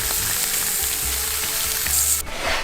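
Potatoes, onions and garlic frying in a pot outdoors on a road trip, a loud continuous close sizzle with low rumbling underneath that drops off abruptly near the end.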